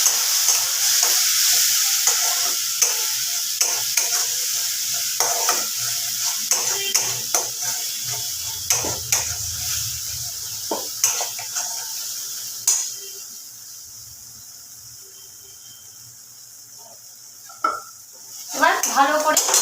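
Cashew, raisin and yogurt paste poured into a pan with fried ginger and green chilies for a paneer dish, then stirred, with sizzling, repeated spoon scrapes and clinks, a quieter stretch and a final metallic knock.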